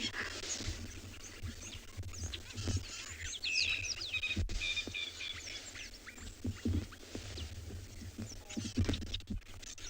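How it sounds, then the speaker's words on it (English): A dense chorus of many birds, including crested barbets, calling and chirping at once at sunrise on safari, overlapping whistles and trills at moderate distance, with no talking. "There is a multitude of birds here."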